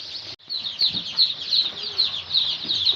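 Desi Sonali chicks cheeping in a dense, continuous high chorus as they are placed into a brooder, with a brief gap near the start and soft handling noise beneath.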